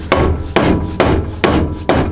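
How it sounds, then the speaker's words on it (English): Five sharp hammer blows strike metal at an even pace, driving a bearing onto a shaft during a Toyota Tacoma transmission repair, loud and close, each with a short ringing decay and no voices. "You don't want to hammer on these too hard."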